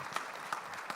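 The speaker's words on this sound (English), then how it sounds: "so we can clap" Brief applause at an insurance forum, a few separate claps standing out over a steady wash of room noise, fairly faint and short.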